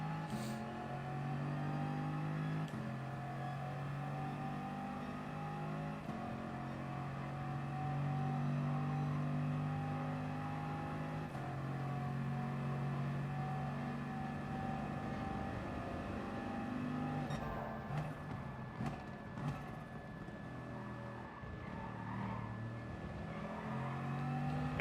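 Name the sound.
racing car engine in a video game race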